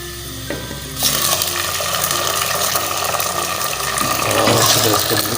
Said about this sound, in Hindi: अभी हम डालेंगे चिकन